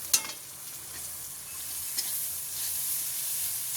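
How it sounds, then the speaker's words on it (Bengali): Chopped garlic fries in hot oil with a steady, soft sizzle, and a couple of sharp clicks from a spoon or pan come near the start and around the middle. No one speaks. "রসুনটাও ভাজা হবে।"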